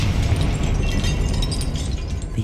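A fiery Confringo spell blast in the wizarding game Hogwarts Legacy, a sustained rumbling burst with crackling debris, steady and fairly loud with no talking.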